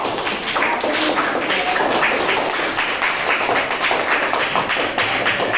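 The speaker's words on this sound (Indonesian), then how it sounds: "Tepuk tangan yang meriah untuk kita semua." A classroom of eighth-grade junior high students applauds together, a dense, steady patter of many hands clapping that carries on without a break for several seconds, with no talking over it.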